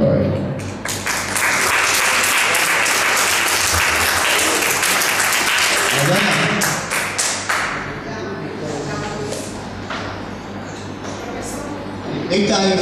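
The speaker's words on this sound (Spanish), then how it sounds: "Un abrazo y un aplauso para él." An audience claps together in a dense, sustained round of applause at a memorial tribute to Florencio Ricardo Mello Vargas. It holds steady for several seconds, then thins into scattered claps and fades.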